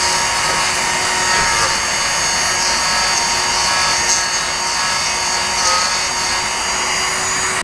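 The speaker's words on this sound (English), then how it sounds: "I'm gonna use the rotary tool to make a hole for the weight" A rotary tool drills a hole for a weight in a small handmade crankbait lure, giving a steady, close, high-pitched whine that runs unbroken and evenly loud throughout with no talking.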